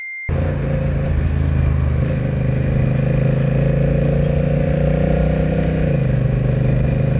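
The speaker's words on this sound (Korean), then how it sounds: "엔진 소리와 머플러 소리가 생각보다 묵직하고 고동감이 확실히 크루저 장르로 나온 듯한 소리가 들려요." Honda Rebel 1100T DCT liter-class cruiser motorcycle engine and muffler give a steady, deep, heavy throbbing drone, loud and close, holding an even idle-like rumble throughout with no voices.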